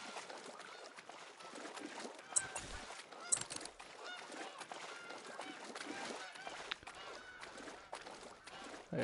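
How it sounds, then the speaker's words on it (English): Canada geese honk overhead in the hunting game theHunter: Call of the Wild, a few sharp calls standing out over a busy, noisy ambient bed of outdoor game sound. "There's some geese overhead."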